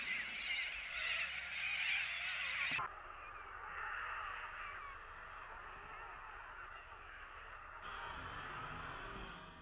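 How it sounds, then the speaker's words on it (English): A flock of cockatoos calling in outback Queensland, harsh raucous screeches overlapping in a loud continuous chorus, the sound shifting abruptly between distant and nearer takes. "Large flocks of cockatoos can be a menace to freshly planted crops."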